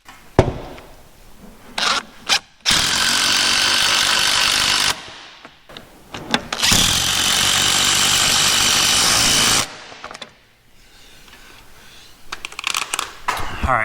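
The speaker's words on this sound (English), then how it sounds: "So I'm going to pre-drill holes" A power drill bores pilot holes for lag bolts while a garage door is installed, in two long, loud, steady whirring runs of a few seconds each, with knocks and handling noises before, between and after them.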